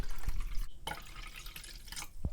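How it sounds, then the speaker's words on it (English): Water poured into a pot of cut chicken pieces for a Korean spicy braised chicken, a steady splashing, dripping pour close by with no talk. "Now we'll just add water and boil it"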